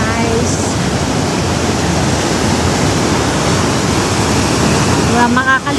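Numa Falls in Kootenay National Park pours as fast-flowing water, a loud, continuous broadband rush heard up close, with a voice briefly near the end.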